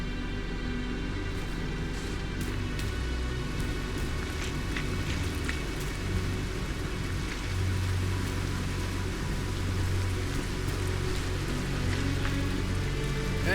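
Steady rain falls in the video game The Caribou Trail, a dense, even hiss that holds at the same level throughout with a low background hum beneath it.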